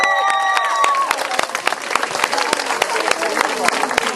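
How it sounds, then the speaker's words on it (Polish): An audience at a primary school family festival in Lusowo applauds after a children's stage play, scattered and uneven clapping with individual sharp claps standing out, following a few fading musical tones, moderately close. "Również dla niej brawa."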